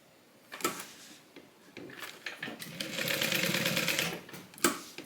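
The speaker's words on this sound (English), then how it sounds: "That's why I want to baste it in place." A sewing machine basting the fabric of a Bible cover runs in short bursts, a stitching whir rising into a steady run of a second or so, with clicks and handling knocks between, close and without talk.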